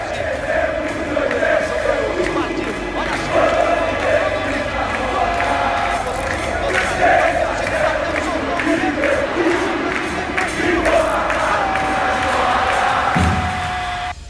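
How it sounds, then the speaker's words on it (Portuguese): A large crowd of Flamengo football supporters roars and chants together, a dense, loud, sustained wall of voices with cheering swells throughout and a brief thump near the end. "essa vitória deu brecha para a criação da principal música da torcida do"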